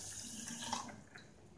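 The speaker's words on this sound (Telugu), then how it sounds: "ఒక గ్లాస్ వాటర్ వేసుకోవాలి." A glass of water is poured into a pot of sugar for syrup in a home kitchen, making a steady, close splashing stream for the whole short stretch with no talking.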